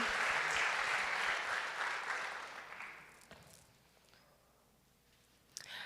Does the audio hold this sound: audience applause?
yes